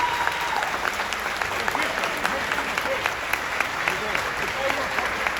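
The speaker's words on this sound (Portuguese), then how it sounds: "uma salva de palmas pro Lester" A festival crowd at a geek convention in Santos applauds Lester in a sustained, dense burst of clapping, with a few voices faintly mixed into the steady patter.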